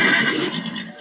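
A horse whinnies in one loud, close, breathy call that tapers off within about a second, with no other sounds around it.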